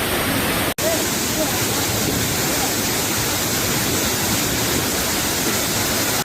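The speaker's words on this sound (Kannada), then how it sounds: "ಕಾವೇರಿ ನದಿ ತುಂಬಿ ಹರಿದು ಶಿವನ ಸಮುದ್ರದ ಭರಚುಕ್ಕಿ ಮತ್ತು ಗಗನಚುಕ್ಕಿಯಲ್ಲಿ ಭೋರ್ಗರೆದು ಧುಮುಕುವಾಗ" Shivanasamudra waterfall on the Kaveri river roars as a dense, unbroken wash of loud noise, the swollen river plunging steadily, with one brief cut near the start.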